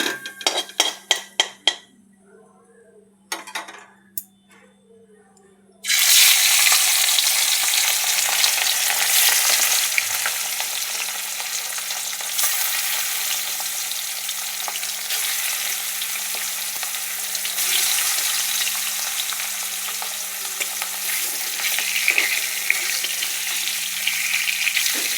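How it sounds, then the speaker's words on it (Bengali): Fish frying in hot oil dusted with turmeric sizzles loudly and steadily for about twenty seconds, after a few sharp kitchen clinks and a short quiet spell at the start. "মাছগুলো হালকা ভেজে নেব, বেশি কড়া করে ভাজবো না।"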